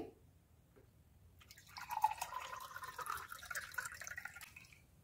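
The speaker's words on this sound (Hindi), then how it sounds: "अब इसमें गुनगुना पानी डालेंगे" Lukewarm water is poured into a glass, starting with faint drips and then a continuous splashing fill that grows louder over the last few seconds.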